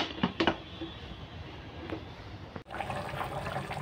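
Water is poured into a pressure cooker while cooking mundi masala, making a continuous splashing, filling sound that is fairly close and quiet, with a short clunk near the end.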